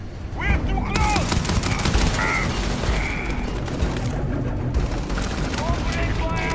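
Starfield gunfire breaks out at close range, a fast volley of sharp shots and bursts over steady background game noise, with talk and radio-style voices mixed in.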